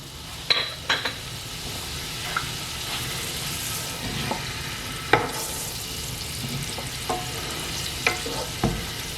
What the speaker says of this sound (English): put our pancetta in. You'll start to hear it sizzle.